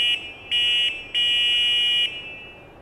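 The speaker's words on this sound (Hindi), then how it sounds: "यहाँ पे एक पीली रंग की स्विच है, जिसको अगर दबाते हैं तो आपको हॉर्न की आवाज़ सुनाई देगा।" The horn on a Motovolt Urban electric bicycle sounds three loud, close buzzy electronic blasts. The first two are short and the third is held longer, with brief gaps between them and no talking.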